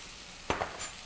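Water poured into a pan of sizzling stir-fried asparagus and mushrooms, a sudden hiss of steam with a second splashy burst and a brief sizzling flare right after, over a quiet background.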